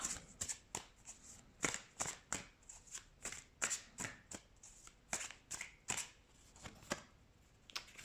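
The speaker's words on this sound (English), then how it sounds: "Let's shuffle some tarot cards." Tarot cards are riffled and shuffled by hand in a steady run of about twenty crisp, close bursts, quiet and without talk.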